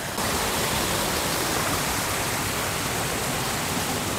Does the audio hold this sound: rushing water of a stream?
yes